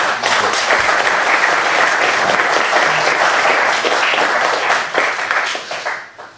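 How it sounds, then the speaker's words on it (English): A large crowd at a political speech applauds the Free Press Society, loud, dense clapping that stays full and even for several seconds and then fades out quickly. "I would like to give them an applause just for that"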